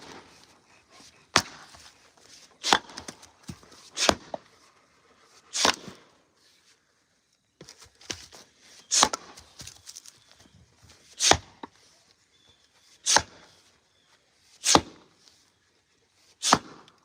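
A double bit axe splits wood rounds outdoors, with about a dozen sharp, hard chops landing at uneven intervals and quiet shuffling and rustling between strikes.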